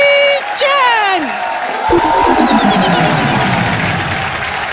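Studio audience on a Kapil Sharma Show set bursts into loud applause and cheering to welcome an action-hero guest, the clapping swelling after a short musical sting and continuing densely to the end.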